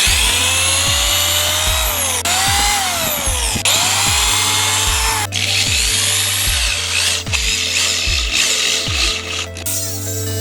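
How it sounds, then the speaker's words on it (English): A power drill whines up in short repeated bursts, each run winding down in pitch, boring pilot holes into scrap wood close by with a steady background hum. "Now we're gonna drill some pilot holes."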